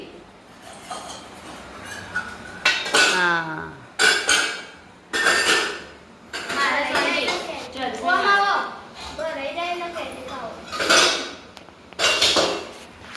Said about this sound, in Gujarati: નણદ ભજાઈ દિયર ને ભજાઈ બે વાસણ ઉતારે જ છે